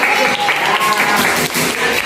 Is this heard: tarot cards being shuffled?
no